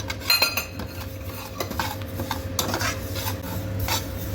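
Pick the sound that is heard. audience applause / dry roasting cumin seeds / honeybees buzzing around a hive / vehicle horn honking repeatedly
dry roasting cumin seeds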